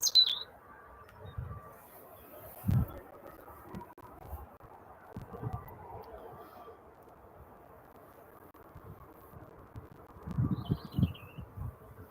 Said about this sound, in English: Lots of birds around today tonight.